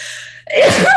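A single loud, close human sneeze, a quiet held breath giving way to one sharp burst, with no speech around it.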